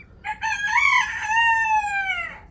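A single young rooster of Fayoumi or local breed crows once, close and clear, a full cock-a-doodle-doo that rises and then trails off, with no voices.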